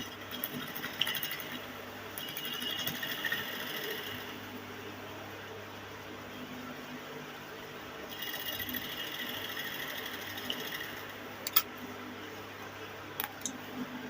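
A sewing machine stitches fabric for a crop top, faint and quiet, running in a few short bursts separated by near silence.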